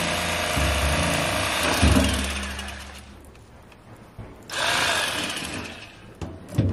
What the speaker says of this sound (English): So this Bubba electric knife did an absolutely incredible job flaying these kokanee.